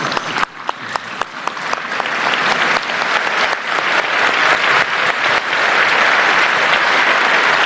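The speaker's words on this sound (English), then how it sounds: "I think all of you should give a standing ovation to the students" A large audience gives students a standing ovation at a cultural event, starting with a few sharp separate claps that swell into dense, sustained, loud applause filling the hall.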